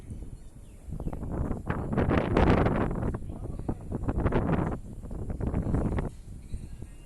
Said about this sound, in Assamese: সুন্দৰ পৰিৱেশ, ঠাণ্ডা ঠাণ্ডা বতাহ